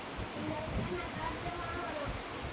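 Heavy rain falls steadily as a dense, continuous wash of noise, with close patter and a low rumble underneath, and no break.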